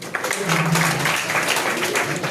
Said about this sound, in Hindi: ताली बजाओ के लिए।